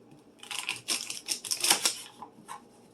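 A knife chops through celery stalks, leafy tops included, on a cutting board in a home kitchen, giving a short run of close, crisp cuts with uneven rhythm and no talk.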